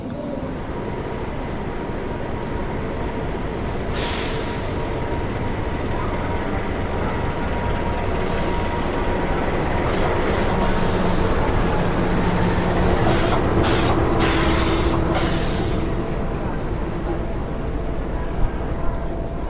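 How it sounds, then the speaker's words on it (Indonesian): The Ijen Express economy train, running from Malang to Ketapang, produces a continuous rolling rumble and rattle for the whole stretch, with occasional brief hissing bursts. "perjalanan kereta api Jane Express dari Malang ke Ketapang"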